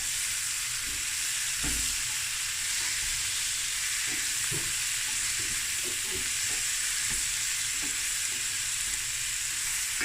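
Prawns fry in a pan over medium to high heat, giving a steady, even sizzle and hiss throughout, with soft scrapes and clinks from occasional stirring and no talking.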